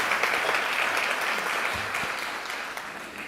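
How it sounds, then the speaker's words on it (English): A conference audience applauds a speaker with a steady, moderately loud wash of clapping that slowly fades over a few seconds. "How about another round of applause for Dr. Sujin Jez?"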